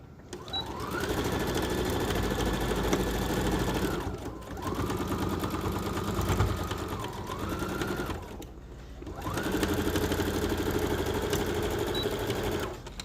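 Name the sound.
sewing machine stitching a fabric mask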